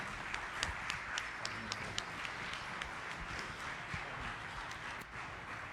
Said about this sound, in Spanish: la enorme disposición del maestro Franklin, lo vamos a despedir con esas palmas generosas de todos ustedes.